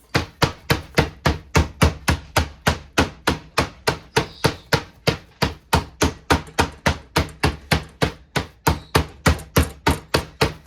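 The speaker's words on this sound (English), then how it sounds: "So you're just going to pound until it's about 1/2 inch to a little bit less than 1/2 inch" Meat being pounded flat with a mallet on a board, a rapid, steady run of loud, close thuds, about three per second, continuing without pause.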